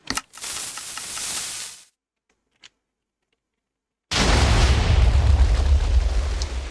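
A shotgun-style TNT cannon in Minecraft fires with a burst of blasts, falls silent apart from one faint pop, then a heavy rumbling wall of explosions follows and keeps roaring.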